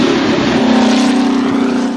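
Mercedes-Benz W196 Formula 1 car with a naturally aspirated 2.5-litre straight-eight engine, holding a loud, steady, buzzing high-rev drone close by for two seconds, slightly falling away at the end.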